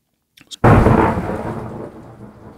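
Rain Classic sample from the Noize 2 plugin: a loud thunderclap bursts in after a few faint ticks, then rolls into a dense, steady hiss of rain that slowly fades while the rumble trails off.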